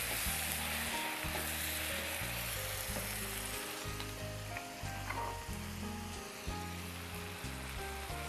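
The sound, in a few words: stirring chopped tomatoes frying in a pan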